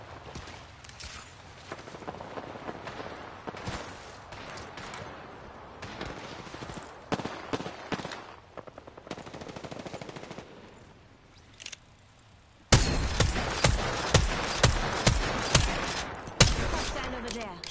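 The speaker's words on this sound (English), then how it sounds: "Shooting!" Video game gunfire: scattered, spaced shots through the first part, then a loud, rapid run of repeated bursts near the end, heard without talk.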